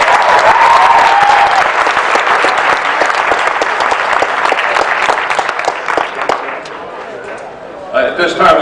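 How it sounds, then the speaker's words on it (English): An audience at a county commissioners' meeting gives loud, sustained applause that tapers off toward the end, with a voice rising briefly at the close. "Give him another round of applause."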